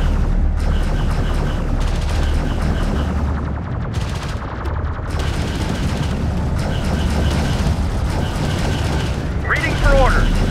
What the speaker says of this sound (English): Alert, carrier is taking fire.